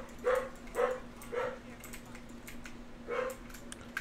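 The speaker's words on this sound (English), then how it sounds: "autistic dog barking." Dog barking in a room, a few short yips and barks in an uneven series, fairly faint, over a steady low hum.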